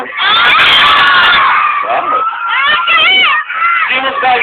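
A large crowd at an outdoor evening show cheers, shrieks and shouts loudly and continuously, with high-pitched screams rising and falling throughout.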